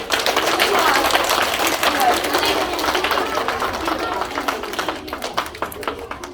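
Primary school audience applauding first-grade award winners at a Ukrainian school ceremony, a dense sustained wash of clapping that slowly thins toward the end.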